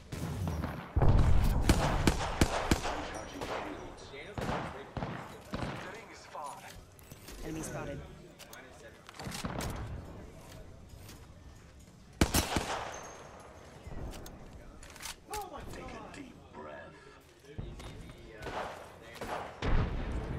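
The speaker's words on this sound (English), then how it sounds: "Getting shot at." Automatic weapon fire in the video game Apex Legends, sharp repeated bursts and single shots scattered through the stretch with a louder cluster near the start, mixed under ongoing game sounds and a talking player.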